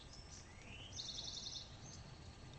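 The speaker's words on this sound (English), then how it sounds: "Bet you can hear the birds chirping." Faint bird chirps and a brief trilling call outdoors, set against a steady low rumble of background noise.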